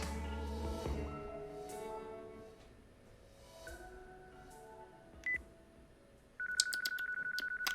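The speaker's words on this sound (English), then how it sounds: "If you call from my cell, I'm sure he'll answer." A cell phone call rings in the video game Yakuza 4, a steady electronic ringtone tone entering near the end after quieter game sounds and music, clear and close.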